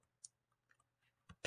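A few sparse clicks of computer keyboard typing, quiet and close, ending in a louder cluster of keystrokes.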